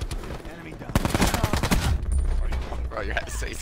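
Rapid SWAT RFT gunfire in Call of Duty Black Ops 4, a loud burst of closely spaced shots followed by further bursts and game noise, with a voice faintly present.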